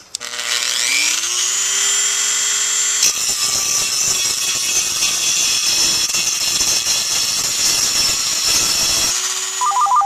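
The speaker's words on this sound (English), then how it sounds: "Now I'm going to use this Dremel grinder piece just to kind of smooth this out and around the bottom intake holes as well." Dremel rotary grinder smoothing the metal around intake holes on a packable wood gas stove, a loud high motor whine spinning up, then gritty grinding against metal for several seconds before easing back to a free spin; close, no talk.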